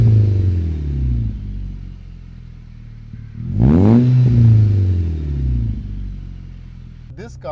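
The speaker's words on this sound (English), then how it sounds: "Let's jump in the car and take it out for a drive. Definitely sounds nice and raspy." A modified Volkswagen Polo with a 450 hp engine swap revs hard on the road, its raspy engine note rising and falling in loud sweeps, with one sharp surge mid-clip and a brief burst of voices at the end.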